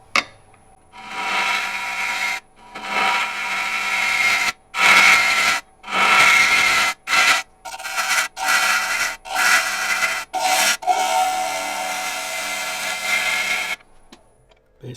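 A gouge hollows out apple wood on a lathe, giving loud scraping bursts in an uneven rhythm of short and longer cuts separated by brief pauses.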